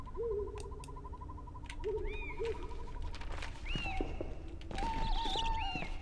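Owls hoot repeatedly in the Harry Potter 5 PC video game, with clear mid-pitched calls and higher rising cries over a dense ambient background, and no talking.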